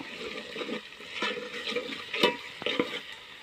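Ginger garlic paste stirred into onion and chickpeas frying in a pan, with a close wet sizzle and irregular scraping stirs, a couple of sharper knocks near the middle, no voices.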